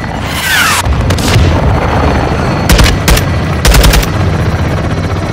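Gunfire bursts from Call of Duty: Modern Warfare II in a raid on a compound, heavy booms and rapid rattling volleys in several separate clusters over a constant rumbling battle backdrop, loud and close.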